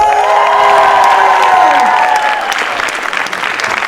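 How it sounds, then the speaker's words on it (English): Crowd at a Pandava Sena 25th anniversary celebration applauds and cheers loudly, dense clapping with whoops and shouts while a sustained tone fades out, easing slightly toward the end. "Massive round of applause to"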